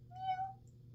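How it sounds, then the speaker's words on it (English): A cat gives a single short, faint meow in a quiet room against a low background hum. "You're going to hear my other cat in here."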